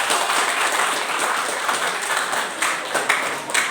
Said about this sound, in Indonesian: kita aplaus lagi untuk jawaban nomor 2